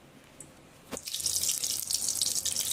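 Water pours into a pressure cooker for mung dal, a splashy rushing stream starting about a second in after a faint tap, loud and close, steady to the end with no voices.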